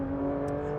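A Porsche 911 GT3 RS 992.1 with a 9,000 RPM engine holds a steady, high-pitched whir and drone, close and continuous for under a second.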